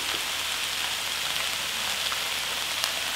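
Seasoned dried vegetable namul, such as chwinamul, siraegi and dried pumpkin, stir-fries in a pan with a steady, dense sizzle like rain, close and even throughout.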